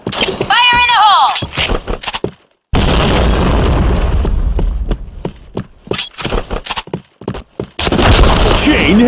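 A grenade blast in the shooter game Point Blank hits as a sudden loud boom after a brief silence, followed by rumbling debris, gunfire and in-game voice callouts.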